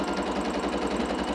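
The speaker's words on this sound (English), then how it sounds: "I'm just gonna sew these guys together now." A sewing machine stitches quilt pieces together for a baby quilt top, a fast continuous mechanical whir with a rapid rhythmic needle pulse, close and loud with no talking.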